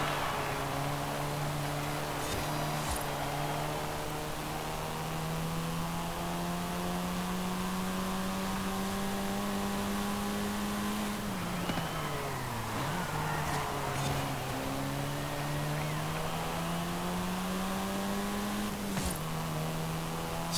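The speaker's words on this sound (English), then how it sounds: "I'll let you listen to the engine for a little bit first though" 2021 Volkswagen Golf R engine in Forza Horizon 5, a sustained droning tone that climbs slowly, dips briefly around a gear change, then builds again, loud and continuous with no talk.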